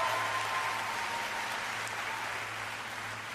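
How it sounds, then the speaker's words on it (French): Audience applause at a gala, a dense, even wash of clapping from a large crowd heard at a distance and fairly faint, with no one speaking over it. "Bonne main d'applaudissements"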